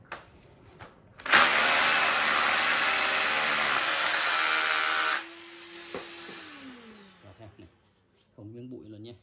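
A power drill whirs loudly for several seconds along with the steady roar of a dust-extractor vacuum, then winds down; a voice speaks briefly afterward.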